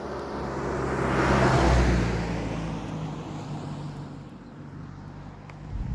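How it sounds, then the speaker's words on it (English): A car passes by on a road, swelling from a distant whoosh to a loud near rush and then fading away again into a steady background hum. "let's let the car pass"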